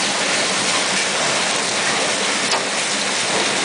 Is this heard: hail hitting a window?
yes